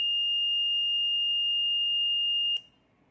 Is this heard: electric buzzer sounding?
yes